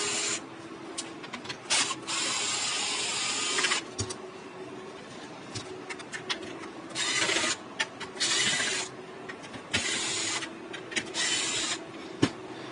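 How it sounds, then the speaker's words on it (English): A powered screwdriver set to a low clutch drives screws into RideTech light arms on a Chasing M2, giving repeated steady whirring bursts separated by short pauses, close up. "I'm using a powered screwdriver"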